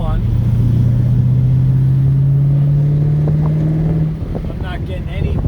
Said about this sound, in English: For a little fourth gear roll on.